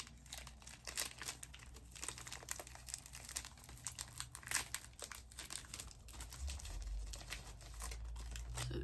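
Packaging of a Korean snack box crinkling and rustling as it is opened by hand, a steady run of soft, close crackles and small tearing sounds over low background hum, with no speech.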